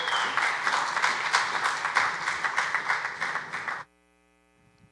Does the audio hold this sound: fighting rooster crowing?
no